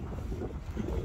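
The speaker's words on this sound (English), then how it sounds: "it's got a bit windy now." Wind buffets a microphone outdoors in a steady low rumble for about a second, loud and continuous with no voices.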